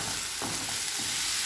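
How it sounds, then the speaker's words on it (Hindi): Mixed vegetables frying in a pan over a medium-low flame give a steady, close sizzle, with two soft stirring scrapes breaking through it. No voices are heard. "अब इसे मीडियम टू लो फ्लेम पर 2 से 3 मिनट के लिए पका लेंगे"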